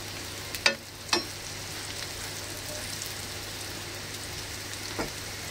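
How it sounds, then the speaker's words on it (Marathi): Alu wadi shallow frying in a pan of oil gives a steady low sizzle, broken by a couple of sharp clacks early on and another near the end. "आपण फक्त हे आपण क्रिस्पी आणि खरपूस करून घेऊया दोन्ही बाजूने"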